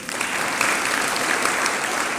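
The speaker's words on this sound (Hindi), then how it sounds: "ऐसे बजाई जाती ताली।" An audience claps hands together in steady, dense applause that holds at an even, loud level throughout, with no talk over it.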